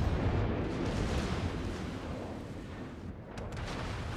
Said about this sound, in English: Very good torpedo hit from a friendly carrier.